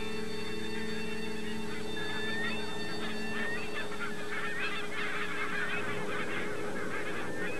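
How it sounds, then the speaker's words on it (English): Barnacle geese from Greenland honking in a wintering flock, a dense chorus of overlapping calls that swells louder toward the end over a steady low hum. "All the barnacle geese from Greenland spend the winter here."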